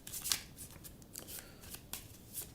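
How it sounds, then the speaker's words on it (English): A deck of resource cards for the Tiny Towns board game being shuffled close up, a quick burst of crisp riffling followed by several softer papery slides and taps, with no talking. "back to the shuffling of the resource deck"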